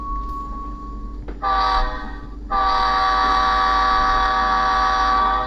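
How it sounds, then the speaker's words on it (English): An HHP-8 model locomotive on a toy trainset sounds its electronic horn: a short blast, a brief pause, then a long sustained chord-like blare over a steady low hum. "It's also got a horn."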